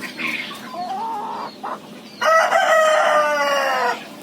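A black Yinja rooster at a poultry farm in Saraburi gives a loud, close crow lasting almost two seconds, after a few shorter clucking calls.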